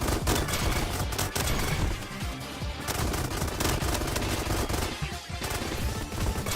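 Silenced pistol hipfire in the Roblox game Bad Business, a rapid string of muffled shots running close and loud throughout, with brief gaps between bursts.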